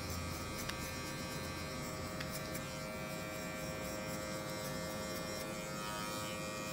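Electric hair clipper buzzing steadily and close during a buzzcut haircut, a continuous unbroken drone with no talking.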